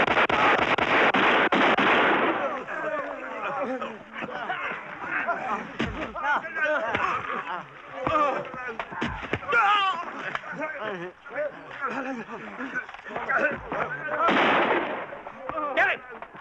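Gunfire in a war film: sharp shots and blasts ring out under loud shouting voices and commotion, with heavy noisy bursts at the start and again near the end.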